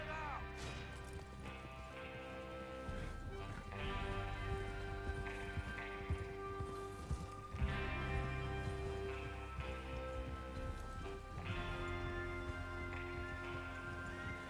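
Horses gallop in Red Dead Redemption 2, steady rhythmic hoofbeats near and fairly faint, mixed under game music, with voices talking over them.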